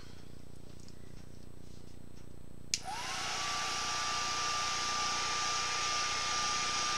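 A heat gun switches on with a sharp click and then blows a steady, loud whooshing hum close by while warming embossing powder, after a quiet start.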